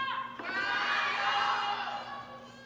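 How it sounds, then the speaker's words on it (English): A table tennis crowd roars and cheers for Sun Yingsha at a United States Smash 2025 women's singles match, a dense burst of shouting that swells and holds before easing off. "the crowd starting to cheer for Sun Yingsha"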